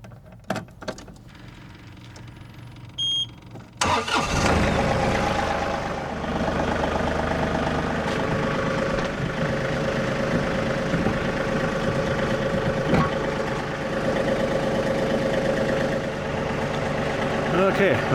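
Small tiller engine starting and idling, a sudden ignition after a quiet handling stretch, then a continuous rumbling run close by, with people talking over it.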